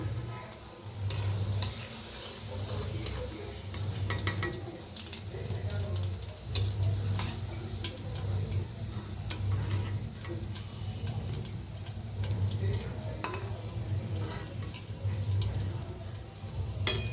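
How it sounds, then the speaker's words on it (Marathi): Gulab jamun balls frying in hot oil over a low gas flame, giving a steady soft sizzle with faint bubbling and occasional light clicks throughout, no talking. "उरलेले बी तळून घेऊया."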